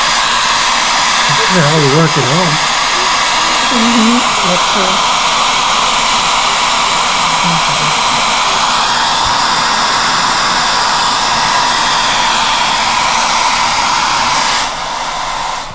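A hair dryer blows steadily and loudly at close range, drying paint on an icon during an iconography workshop, its broadband roar continuous throughout while people talk briefly over it near the start.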